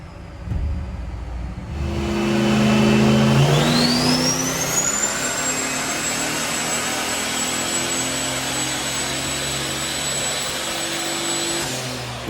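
A turbocharged Dodge Diplomat engine on a dyno revs up with a rising whine that climbs quickly, then holds at a steady high roar with turbo whistle for several seconds before easing off, loud and close, no talk.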